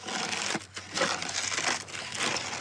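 Snowplow clearing snow on an Anchorage street during a busy winter, a loud, close scraping and crunching rush of snow with brief dips in level, no talking.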